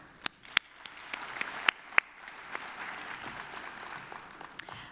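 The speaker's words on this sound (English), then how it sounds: "Please give a big round of applause to all of our winners who increased ridership and sales." Applause from an awards ceremony audience honoring winners, starting with a few sharp individual claps and building into steady, moderately distant clapping from a crowd.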